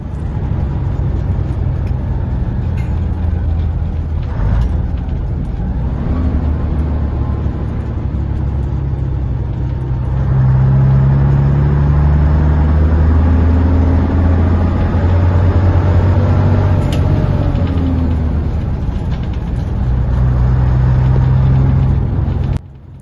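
An old bus or coach engine drives along with a steady low rumble and drone, loud and close throughout and without speech, its pitch rising and easing a little as it runs.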